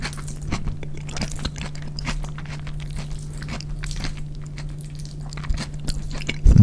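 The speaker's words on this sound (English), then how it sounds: "let me go ahead and eat." Close, wet chewing and crunchy bites of a Chipotle burrito bowl with salty protein and toppings, steady soft mouth sounds throughout with a few louder crunches near the end and no talking.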